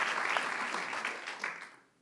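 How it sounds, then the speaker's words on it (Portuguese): A church congregation at Zion Church Lisboa claps together in a brief, lively burst of applause. It holds steady for about a second and a half, then quickly fades away. "salve de palmas a uma igreja que ama a Bíblia"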